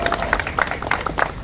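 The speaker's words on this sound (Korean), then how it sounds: "박수 한번 보내주세요" A rally audience of local residents and officials applauds briefly, with scattered, moderately close hand claps and a little crowd murmur.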